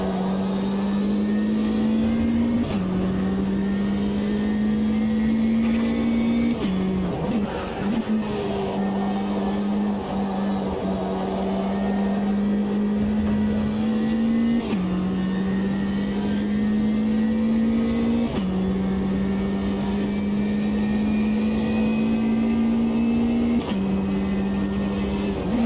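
An Alpine A110 Cup race car engine drones steadily in Automobilista 2, rising in pitch through each gear before dropping at every shift, in a repeating cycle of upshifts across the lap.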